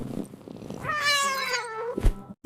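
A cat gives one drawn-out, rising-then-falling meow, close and clear, followed by a short muffled bump.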